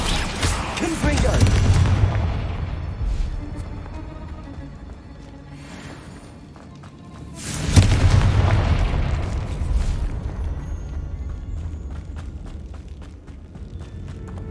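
Confringo fire spells burst in Hogwarts Legacy combat, two heavy booming explosions with rumbling tails, separated by a quieter stretch with faint footsteps and ambient noise.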